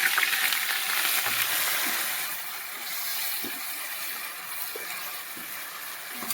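Onions frying in oil with cumin, fennel and ground coriander in a pan in a village kitchen, giving a steady, close sizzle and crackle with faint scattered stirring clicks and no talk.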